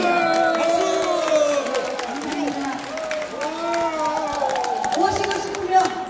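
Audience clapping and cheering at a New Year concert featuring a janggu drum medley, a crowd's steady applause mixed with shouts and excited voices, fairly loud and sustained throughout.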